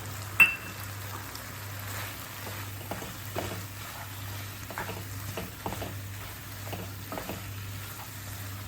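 Chicken fry with chilli sizzles steadily in a pan, a soft continuous crackle with occasional stirring scrapes and a low hum, no talk.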